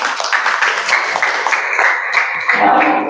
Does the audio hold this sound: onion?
no